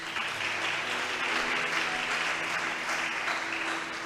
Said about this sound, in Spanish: ¿Cuántos le aplauden al Señor, hermano?